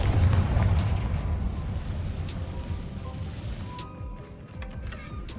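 A Confringo fire spell blast in a video game, loud and booming, with a deep rumble that swells at once and slowly fades, and faint crackles and clicks toward the end.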